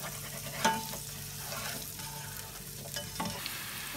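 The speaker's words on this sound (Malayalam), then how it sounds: "രണ്ട് സവാള സ്ക്വയറായിട്ട് അരിഞ്ഞത് അതുകൂടി ഇട്ട് കൊടുക്കുക. നല്ലപോലെ ഇളക്കി കൊടുക്കുക." Two onions chopped into squares fry and sizzle in a pan for chilli chicken, a steady close crackle broken by a few louder scraping stirs.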